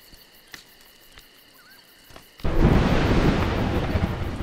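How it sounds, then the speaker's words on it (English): Thunder in the video game A Juggler's Tale opens with quiet ambience and faint ticks, then breaks into a sudden loud, sustained rumble that fills the rest of the clip. "But thunder and lightning are terrible opponents."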